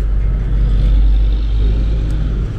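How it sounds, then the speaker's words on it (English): Trucks driving by on a city street in Toronto, a heavy, loud, continuous low engine rumble close by that eases slightly near the end. "Lots of trucks going by."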